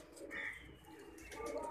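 A pigeon coos softly nearby in a short, low, throaty murmur, heard against steady background noise.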